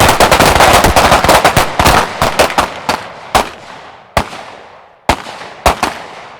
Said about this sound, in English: Press 2 shots into the 5.